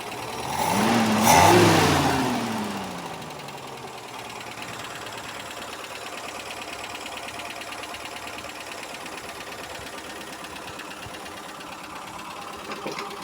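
A Peugeot 404 engine runs after being restarted, with a loud rev swell at first that settles into a steady, even idle with a faint ticking rhythm, close by.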